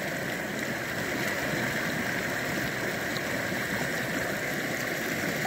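Muddy water of the Rio da Caixa in Rio do Pires, Bahia, rushing in a continuous broadband hiss, loud and steady with no breaks and no voices.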